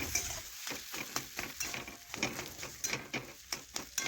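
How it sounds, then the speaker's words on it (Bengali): Cauliflower-potato chop filling stirred and fried in a pan, with a steady sizzle broken by repeated scraping strokes at a quick, uneven rhythm, close and moderately loud. "এখন ভালোভাবে নাড়াচাড়া করে বেশ কিছুক্ষণ ধরে পুরটা আমি ভেজে নেব।"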